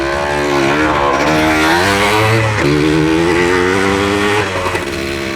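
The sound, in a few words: postie bike motorcycle riding off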